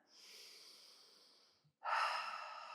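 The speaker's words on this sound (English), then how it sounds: "Inhale and exhale." Two audible breaths during a Pilates reformer abdominal workout: a long, soft inhale followed after a brief pause by a louder, rushing exhale, close and alone with no talking.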